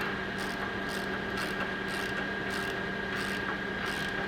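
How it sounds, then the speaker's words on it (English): A ratchet wrench tightens bolts on the precision leveling feet of a pump-and-motor base plate during motor alignment, giving a steady run of quick rhythmic clicking strokes, close and fairly loud, with no talking. "Each foot will have 4 bolts, and each bolt will get tightened down at all the same."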